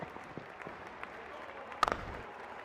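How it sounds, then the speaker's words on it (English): A cricket match crowd sends up a steady wash of cheering and clapping at a distance, with a sharper burst of applause near the end. "Crowd going mad here"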